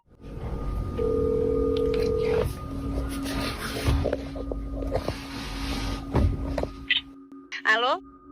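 A phone call begins with a steady tone and a few beeps under a windy background rumble, then rings through a line with a brief crackly electronic warble near the end.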